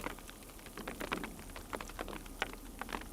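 Hail mixed with snow pattering onto an umbrella held outdoors at Amsterdam Schiphol Airport, a dense steady rattle of small sharp taps close to the microphone with no voices.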